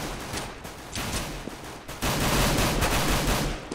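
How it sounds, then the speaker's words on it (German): Rapid bursts of rifle gunfire in a professional Counter-Strike match on de_inferno, loud and dense shots clustered in volleys, with no talk over them. "Kiyoshima, starke Shots hier von ihm"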